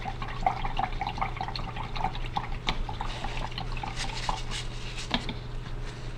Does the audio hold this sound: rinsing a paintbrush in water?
yes